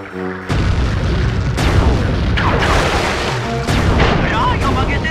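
A cannon in the Sly 3 video game booms several times, each charged shot landing as a loud, heavy blast with a rumbling tail. The blasts repeat at irregular intervals over a continuous bed of battle noise.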